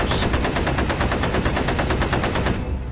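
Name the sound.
machine gun fire sound effect in B-17 Queen of the Skies game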